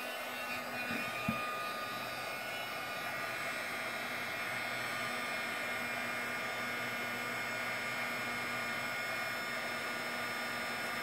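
A heat gun blows a constant, steady hiss with a faint underlying hum while melting embossing powder from below, with a soft click near the start and no voices.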